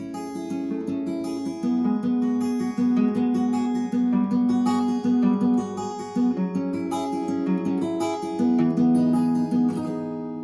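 Acoustic guitar played fingerstyle, picking a steady repeating chord pattern on its own, clear and moderately quiet.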